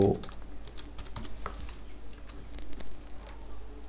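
Keys clatter in quick, irregular bursts on a computer keyboard as text is typed, close and fairly quiet with a faint low hum underneath and no voices.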